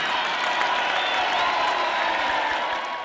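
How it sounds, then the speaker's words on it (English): An audience at a church talent show evening applauding, a continuous wash of clapping with some cheering and crowd noise, steady and fairly full. "a big round of applause please for that"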